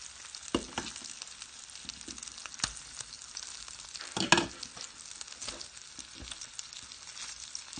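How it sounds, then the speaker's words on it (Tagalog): Shrimp sizzling and stir-frying in olive oil and butter in a pan, a steady soft crackle with scattered louder pops and occasional utensil scrapes, close and moderately quiet. "Tutuin natin sa olive oil at saka butter."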